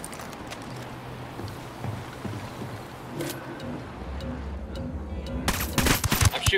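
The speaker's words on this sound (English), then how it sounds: "I'm shooting these fuckers" Gunfire in the video game Ghost Recon Wildlands: scattered sharp shots over a rumbling ambient bed, building into a dense burst of rapid fire near the end.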